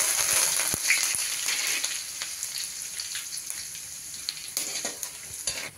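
Curry leaves crackle and sizzle in hot oil with crushed garlic while making roasted rice-flake chiwda, a steady bright frying hiss with scattered sharp pops and occasional stirring, close and alone.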